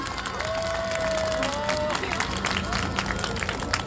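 A crowd applauds and cheers at an outdoor rally, a steady wash of clapping under a voice on a loudspeaker.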